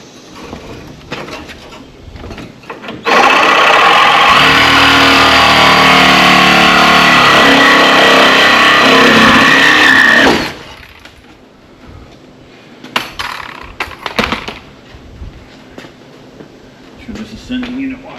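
A harsh, loud cutting tool grinds steadily for about seven seconds as a bolt is cut out on a 1959 Ford Fairlane, with quieter workshop sounds before and after.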